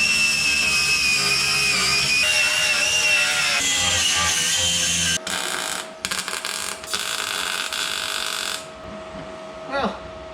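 Angle grinder fitted with a flap disc working sheet metal on a Chevy S10 pickup, a loud steady whine with a rasping edge that runs continuously and then winds down near the end.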